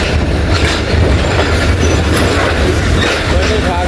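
A passenger train travelling from Karachi Cantt to Lahore rumbles along at speed, heard from inside a coach as a loud continuous roar with rhythmic wheel clatter on the rails.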